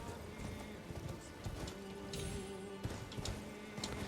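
Soft, steady clip-clop of horse hooves trotting in the video game Elden Ring, faint and continuous under low background noise, with a few brighter clicks.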